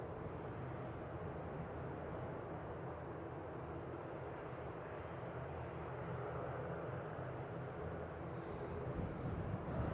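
An ATR turboprop airliner lands at Manchester Airport in gusty wind, giving a steady, fairly faint engine drone buffeted by wind on the microphone, swelling a little louder toward the end.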